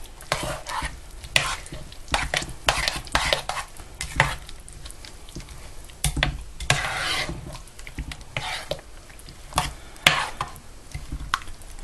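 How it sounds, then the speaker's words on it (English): Picnic beans stirred in a slow cooker with a spoon, a close, steady run of wet scraping and squelching strokes in irregular rhythm, with no talking. "Give it a little stir."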